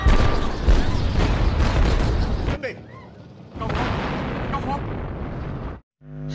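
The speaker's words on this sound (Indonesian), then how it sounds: "akhirnya mall tersebut pun meledak" A shopping mall blows up in the 1988 Hong Kong action film Police Story 2: a loud, dense roar of blasts and debris rumbles on for several seconds, dips briefly, surges again, then cuts off abruptly.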